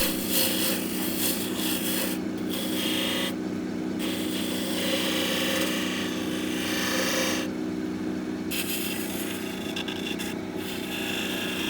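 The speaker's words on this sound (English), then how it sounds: "The bead between the handle and the tool is a tight spot, so I used a spindle gouge to get in and make the cut." A spindle gouge cuts a tight bead on spinning wood on a lathe while turning a garden dibber, producing a continuous close, loud scraping hiss over the lathe's steady hum.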